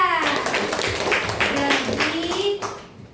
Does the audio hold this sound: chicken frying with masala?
no